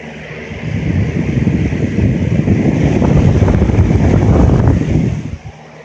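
A Lasko Weather Shield box fan running on high gives a loud, steady, broadband rush of moving air that holds for about five seconds, then drops off abruptly near the end.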